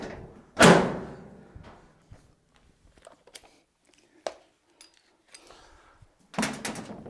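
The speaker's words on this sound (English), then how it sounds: "And then put the lid back down on." A Whirlpool dryer lid drops shut with one solid thud, followed by a few faint clicks and light handling noises, then another louder clatter near the end.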